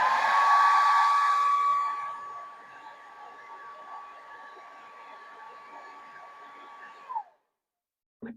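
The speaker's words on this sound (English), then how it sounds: "But here we go with the hairdryer anyway." A hair dryer blows on a salmon fly tied with pound-shop wool, a steady close whirring hum that softens after a couple of seconds and holds before cutting off with a click.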